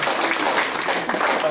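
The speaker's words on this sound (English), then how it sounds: "I think we owe a round of applause to Julie Gates" An audience applauds at a presentation on a miniature octagon house restoration, a dense, steady wash of clapping that holds loud and even for the whole moment.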